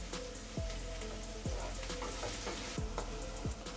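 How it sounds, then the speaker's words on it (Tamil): Three chopped onions fry in a pan for a small-prawn fish kulambu, giving a steady close sizzle with a few clinks from stirring on top. "இப்போ வெங்காயம் கொஞ்சம் வதங்கட்டும்."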